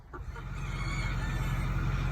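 Meat chickens on a homestead, loaded up for processing, make a faint, steady clucking over a constant low rumble, with no talking.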